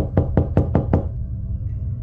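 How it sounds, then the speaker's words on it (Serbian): Five quick, firm knocks on a hotel room door in a steady rhythm, close and clear, followed by quiet room tone. "začuo sam kucanje na mojim vratima."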